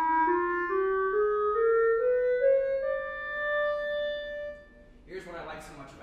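A neutral second microtonal scale climbs step by step in sustained, clear tones at a senior composition recital, each pitch held briefly before the next, and a voice starts speaking at the end.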